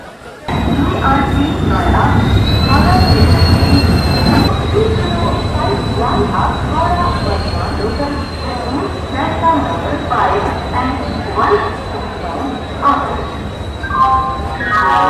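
A passenger train, the Chennai Mail, rumbles and clatters pulling into Howrah station at night, with a high squealing tone over it, while crowd chatter and voices carry throughout.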